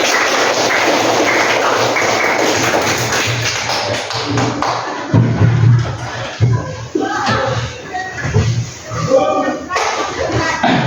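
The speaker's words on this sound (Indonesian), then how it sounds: "Tepuk tangan untuk kita semua." An audience at a teacher-training session at UIN Salatiga claps along in a patterned rhythm, a dense burst of hand claps for about five seconds, then thinning into scattered taps while voices talk over it.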